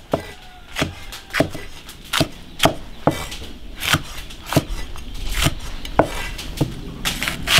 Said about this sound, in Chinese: 青红椒切点